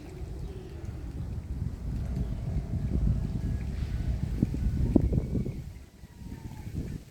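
Wind gusts rushing across an open-air microphone while an RC sailboat sails in changing winds, a steady low buffeting roar that swells and briefly drops near the end.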